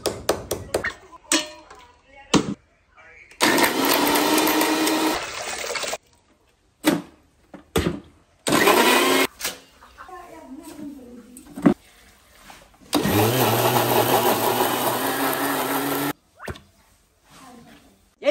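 Soaked bamboo and banana stem are pulped in a blender for papermaking, heard as several loud, steady bursts with sharp starts and stops, separated by quiet gaps and short clattering noises.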